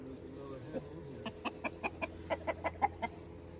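Chickens cluck in a series of short, rhythmic calls that grow closer together, over a steady low background hum, in a backyard coop during an egg check.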